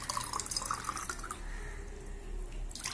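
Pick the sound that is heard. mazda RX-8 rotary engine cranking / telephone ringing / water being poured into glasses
water being poured into glasses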